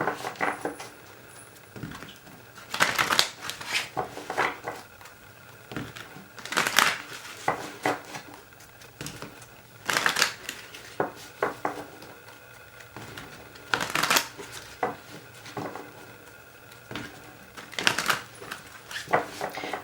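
Tarot cards being shuffled by hand, soft papery riffles and slaps coming in repeated bursts every few seconds, close and quiet with no talking.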